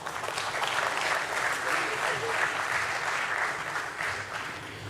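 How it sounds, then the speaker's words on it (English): An audience applauds steadily, a dense wash of clapping that holds at an even level for several seconds without fading. "Let's welcome him on stage with a round of applause."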